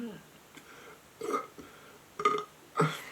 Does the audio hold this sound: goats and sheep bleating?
no